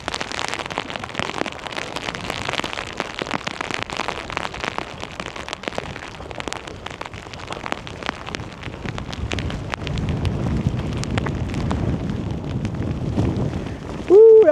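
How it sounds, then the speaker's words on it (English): Strong wind buffets the microphone while heavy rain patters and splashes on the Newfoundland west coast, a constant rough roar with gusty surges, ending with a brief voice. "Ooh, that's windy."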